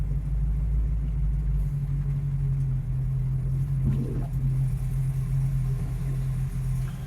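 Ford Mustang project car with transmission and alignment issues on a short test drive, a steady low engine rumble and road drone heard from inside, fairly loud and continuous, with no talk.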